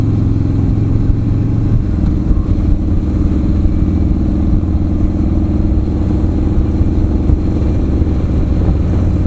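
Harley-Davidson motorcycle being ridden, a steady low engine rumble and road roar that stays loud and close throughout with no break, the motor droning at an even pace.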